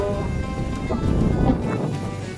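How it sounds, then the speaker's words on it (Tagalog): Strong wind roars continuously in the mountains, buffeting the microphone with a dense, steady rush and no voices. "Grabe ang hangin dira guys."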